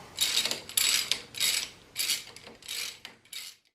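Ratchet wrench backing spark plugs out of a Farmall Super A tractor engine, several close bursts of rapid ratcheting clicks separated by short pauses, loud and alone.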